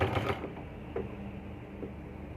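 A sewing machine stitches the yoke of a baby frock, a quiet close mechanical run in a short burst followed by faint, sparse clicks and low hum.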